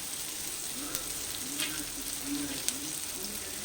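Tomatoes fry in a pan for mung dal with fish head, a faint steady sizzle and crackle with light stirring scrapes, no talking.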